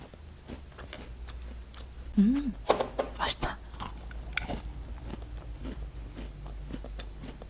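Close crisp crunching of pepper-flavoured potato chips being bitten and chewed, a burst of crackly bites mid-way with a brief murmur, then softer chewing.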